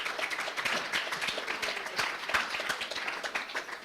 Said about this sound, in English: let's hear a round of applause for Katie